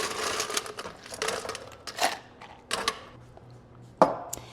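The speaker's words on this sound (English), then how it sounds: "I'm going to add a little bit more ice." Ice cubes clatter into a cocktail shaker as an espresso martini mocktail is made, a few sharp clinks and knocks spaced out over a couple of seconds, close and fairly quiet.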